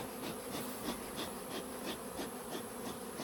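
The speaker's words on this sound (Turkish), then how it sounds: "kızgın arıları biraz daha kızdırdık" Dense, steady buzzing of many agitated honeybees swarming close by at an opened, smoked hive, a continuous droning hum with no voices.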